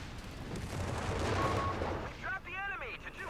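Mortar fire rumbles across a ridge in a 4v4 Company of Heroes 3 match. Dull, overlapping booms roll beneath a continuous battle din, with brief chirping tones at the end.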